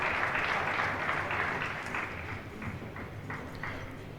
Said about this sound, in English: Lots of applause from the main table.